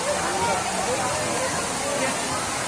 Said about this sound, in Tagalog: Tapos dyan po dumadaan yung tubig.